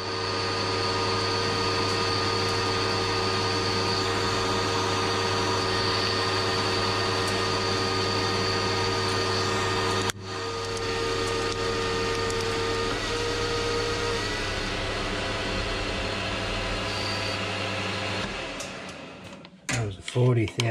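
A machine tool cuts a steel ER40 hex collet block, giving a steady, loud mechanical whine and hum with fixed tones, broken by a sharp knock midway before the sound winds down and stops near the end.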